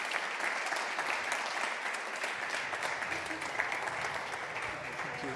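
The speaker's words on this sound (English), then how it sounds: "Can you give her a round of applause as she welcomes the panel?" Sustained applause from a live audience at a community gathering, welcoming the panel moderator onstage; dense, steady clapping fills the room throughout without a break.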